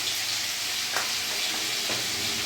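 Ground spices (turmeric, cumin and Kashmiri chili powder) are stirred in hot oil in a pan, giving a steady close sizzle and frying hiss with a couple of soft scraping strokes.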